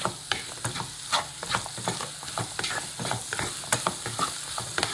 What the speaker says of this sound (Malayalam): ഒന്ന് ഹൈ ഫ്ലെയിമിൽ വെച്ചാവേ നമുക്ക് വെച്ചിട്ടൊന്ന് നല്ലതുപോലെ തന്നെ ഇളക്കി കൊടുക്കാം